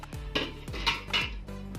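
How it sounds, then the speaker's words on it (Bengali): A metal wok is set down on a gas stove, producing four or five close, ringing metallic clanks in quick succession with nothing else in the background. "এবার আমি গ্যাসটা কড়াইটা বসিয়ে দেবো"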